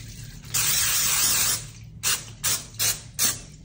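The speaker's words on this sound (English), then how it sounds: "we're going to spray a little bit of vegetable oil just to make sure that" Vegetable oil sprays from a can into a baking dish: one long hissing burst followed by four short quick spritzes, close and clear with no voices.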